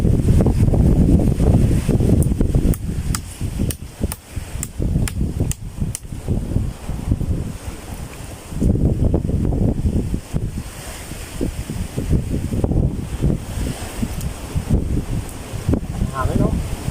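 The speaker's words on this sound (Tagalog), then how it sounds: "Hangin no?" Wind gusts blowing outdoors by the sea near a boat, a steady broad rush with stronger surges, mixed with water and wave noise while people talk throughout.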